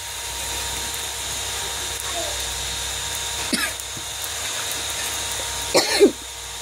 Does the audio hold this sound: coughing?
yes